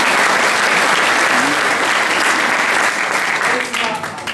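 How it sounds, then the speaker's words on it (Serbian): A crowd at a gusle folk-singing performance claps steadily and loudly for a single gusle player, the applause holding strong and easing slightly near the end. "Guslar iz Pire, to je Goran Luković, ajmo jedan aplauz za njega."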